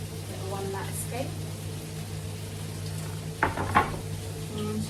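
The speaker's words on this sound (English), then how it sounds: "And stir it all in." Mushrooms frying in a pan give a soft, steady sizzle, and a utensil scrapes and clinks against the pan a couple of times near the end. A person talks quietly over the cooking.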